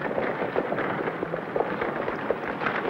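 Sharp gunshot-like bangs and pops crackle repeatedly over a noisy, busy background in a Western TV episode, several bursts spaced irregularly across a few seconds without speech.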